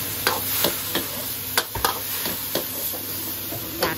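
Stir-frying in a pan with white soy sauce and water, with a steady sizzle underneath and sharp scrapes and taps of the utensil against the pan at irregular intervals, close and moderately loud, with no one talking.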